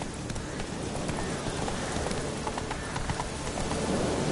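Hoofbeats of Roach, a horse in the video game Witcher 3, form a steady clip-clop rhythm over a dense, continuous background wash of ambient noise that may include rain.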